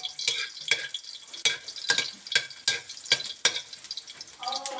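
Garlic and onion frying in a pan, with bright sizzling and the crisp scrape of a spatula stirring in quick, regular strokes, close up, and a brief voice near the end.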